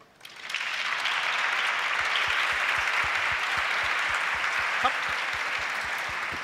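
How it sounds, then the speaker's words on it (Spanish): A school audience at a national debate final applauds steadily, a dense sustained wash of clapping from many hands filling the room after a brief quiet start. "más fuerte el aplauso"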